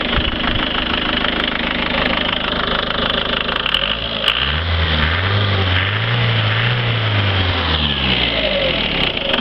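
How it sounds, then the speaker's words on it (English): A Ford Transit motorhome's turbo diesel idles steadily under a raised bonnet, close and loud, with a constant low throb and a faint whine that wavers slightly midway. "there's no problems with that engine at all. It runs absolutely bob on"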